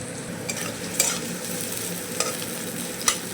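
Onion and green chilli frying in oil in a pan, a steady close sizzle broken by a few sharp stirring clinks and scrapes, with no one talking.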